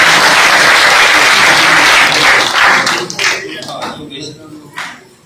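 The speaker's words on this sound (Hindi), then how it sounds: "एक बार इसके नाम के लिए जोरदार तालियां भी नजर आई" Loud, dense applause from a crowd at a political gathering in Julana, Haryana, sustained for a few seconds before thinning into scattered claps and fading.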